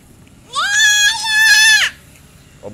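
A goat gives one long, loud, quavering bleat lasting over a second, close by, with a faint short sound just after in a quiet space.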